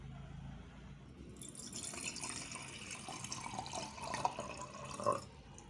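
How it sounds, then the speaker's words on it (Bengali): Water is poured into a vessel for a homemade detox drink with tulsi leaves and julienned ginger, a faint steady trickle and splash lasting several seconds in a quiet room. "জলটা আমি এখানে ঢেলে নিয়েছি"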